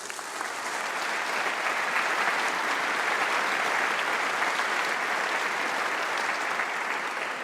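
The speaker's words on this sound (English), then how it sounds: "huge round of applause." A large graduation congregation hall fills with sustained applause for international students, a broad, even roar of many hands clapping that holds steady for several seconds without talk.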